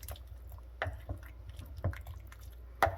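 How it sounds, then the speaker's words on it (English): A gluten-free beef stew being stirred in a cooking pot, with a few scattered wet, soft clunks and squishes of a spoon moving through thick liquid, close and fairly quiet. "And then give this a good stir. Kind of stirring everything in."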